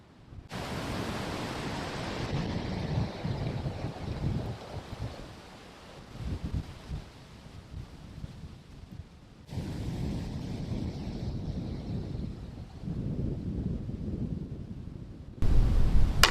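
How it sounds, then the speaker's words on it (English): Strong wind roaring and buffeting a microphone in gusts, loud broadband rumble that drops briefly and surges back, with no voices. "it's windy as hell."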